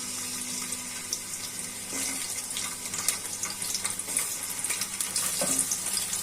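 Onions sizzle and crackle in hot oil, a steady frying hiss broken by occasional stirring clatter, with no talking.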